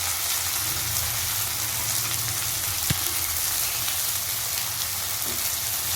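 Cashews and soaked raisins fry in a pan of oil for fried rice, giving a steady, even sizzle throughout with one sharp tap of a utensil partway through.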